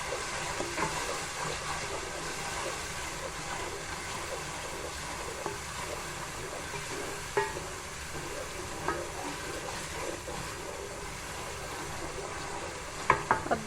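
Garlic frying and browning in a pot for mutton biryani, a continuous soft sizzle and bubbling with occasional sharp taps of a spoon against the pot.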